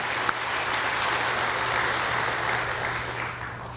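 A church congregation applauds, a dense, even wash of many hands clapping together, sustained and moderately loud throughout.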